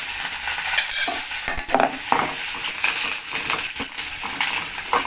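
Chili and onion frying in a pan, with a steady close sizzle broken by stirring scrapes and clinks from a utensil against the pan; no talking.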